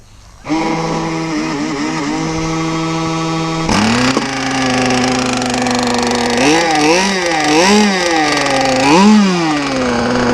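A small gas engine on an RC boat runs at high speed, starting with a steady buzzing whine and then rising and falling in pitch as it makes fast passes.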